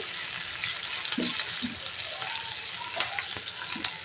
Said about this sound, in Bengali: আমি পেঁয়াজ দিয়ে একটু ভেজে নিচ্ছি